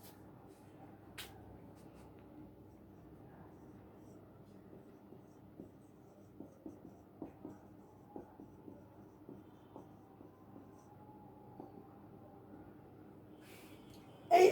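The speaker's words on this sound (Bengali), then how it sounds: "এই একটা বাক্য আমরা লিখলাম" Chalk writes a sentence on a classroom board, a string of faint, quiet taps and short strokes spread over a hushed room, ending in a sudden louder sound.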